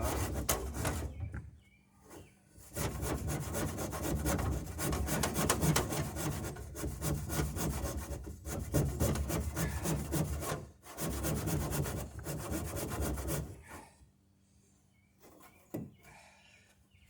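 A handsaw cuts through the wooden bottom of a Chamberlain Alpha Dory between drilled holes in steady, rasping back-and-forth strokes, close and continuous, with brief pauses near the start and a longer quiet stretch near the end.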